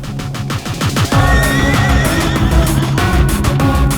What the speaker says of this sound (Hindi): ओह, इस घोड़े की बात कर रही हो?